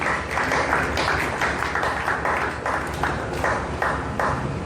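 A church congregation claps together in a dense, rhythmic burst of applause that pulses evenly throughout, filling the room with no clear speech on top.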